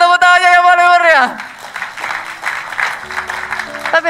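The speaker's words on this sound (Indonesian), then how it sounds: "boleh tepuk tangannya yang paling meriah." Church audience applauding enthusiastically, a lively burst of clapping that follows a held sung or spoken note and continues under a voice talking.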